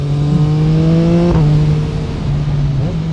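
A Yamaha MT-09 SP motorcycle's engine pulls steadily in a sustained, loud drone heard from the rider's position, with a brief shift in pitch partway before the tone continues.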